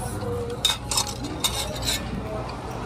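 Onion going into a pan for an Indian dish and being stirred, with soft scraping, light metal clinks of a spoon against the pan and a faint sizzle, fairly quiet, with a few sharper taps.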